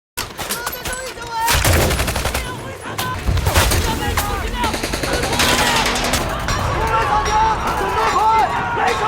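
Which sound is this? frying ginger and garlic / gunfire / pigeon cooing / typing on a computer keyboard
gunfire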